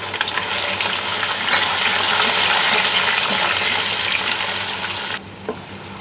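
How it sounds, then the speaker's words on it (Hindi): Onion paste from two medium onions frying in a pan for white egg korma, a steady close sizzle running for about five seconds before cutting off to near quiet with a small clatter. "इस प्याज के पेस्ट को हमें सिर्फ 2-3 मिनट ही भूनना है।"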